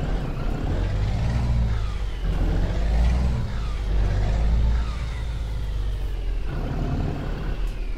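Modded truck engine in Euro Truck Simulator 2, a deep diesel drone that rises and falls with gear changes and throttle, steady and close with no talk over it.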